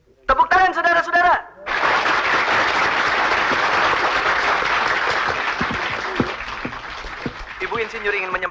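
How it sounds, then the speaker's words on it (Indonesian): An audience at a celebratory gathering breaks into applause right after a short burst of voice, with dense, sustained clapping lasting several seconds and easing slightly toward the end. "Tepuk tangan saudara-saudara."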